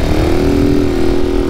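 Honda SS90 motorcycle engine running, a steady close buzzing drone with a firm low pulse, loud and constant, without talk.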